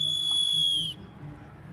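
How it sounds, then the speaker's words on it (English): A loud, shrill whistle is blown at a protest, one steady piercing blast of just under a second that stops abruptly, leaving low crowd murmur behind it. "try and drown out conversations and hurt people's ears with a whistle"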